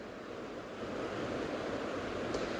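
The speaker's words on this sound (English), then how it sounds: "the water goes hard through those rocks. So it makes a waterfall sound." Water rushing hard over and through rocks like a small waterfall, a steady broad roar close by, continuous and even, with no voices.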